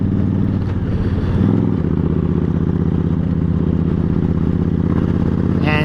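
A 2012 Honda Interstate motorcycle on the road gives a steady, loud engine drone with a continuous low rumble and clatter, heard close and without talk.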